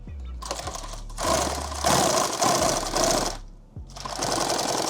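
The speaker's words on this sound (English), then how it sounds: "We're gonna sew him this really small." A sewing machine stitches a padded war belt liner in fast rattling bursts, three runs separated by short pauses, with the motor whirring up and down close by.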